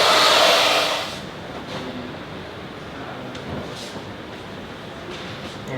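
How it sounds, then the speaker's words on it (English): A hair dryer blasts loudly for about a second while blow-drying styling product into hair for a braided updo, then drops to a softer, steady airy whoosh with scattered small handling noises. "we're going to start blasting it, drying it, getting lots of volume"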